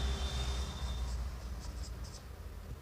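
A pen scratches across paper while writing out a triangle's name in a maths lesson, soft irregular strokes close up over a low background hum.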